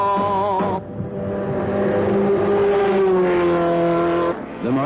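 Martini-liveried Porsche 935 race cars running at the 24 Hours of Le Mans: a loud, sustained engine drone that holds steady, dips briefly, then climbs in pitch near the end.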